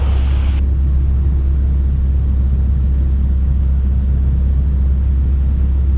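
Piper PA28 light aircraft in flight on a left-hand circuit at 1,000 feet, a loud, steady, droning piston engine rumble heard from inside the cabin, continuous throughout with no talk.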